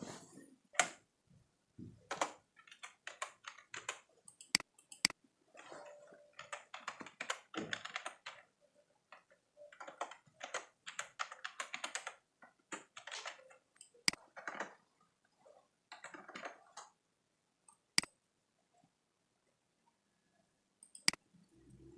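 Fast clicking keystrokes on a computer keyboard while a sign-up form is filled in, coming in quick bursts separated by short pauses with a few louder single taps, close and fairly quiet with no talking.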